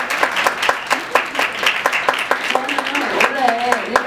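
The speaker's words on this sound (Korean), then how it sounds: "그러면 김경희 교수님을 큰 박수로 모시도록 하겠습니다." Applause from an audience of parents welcoming a professor to a school lecture, a moderate patter of clapping with distinct individual claps, and a voice starting to speak over it toward the end.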